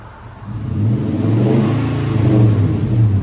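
2008 Nissan Titan 5.6L V8 with a Flowmaster Super 40 dual-in, dual-out exhaust revving, a deep, loud, close engine note that rises from idle into a sustained rumbling rev and holds steady, with no talking.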